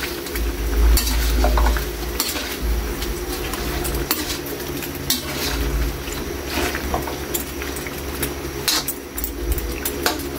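Chicken menudo being stirred in a pan just after soy sauce goes in: a steady scraping of a ladle through sizzling, bubbling sauce, close and continuous, with a few clinks of metal against the pot.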